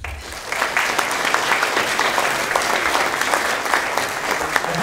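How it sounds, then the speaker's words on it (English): An audience claps for Dwayne Goodrich, a steady dense roar of many hands that holds at full strength for several seconds. "Another big round of applause for Dwayne Goodrich."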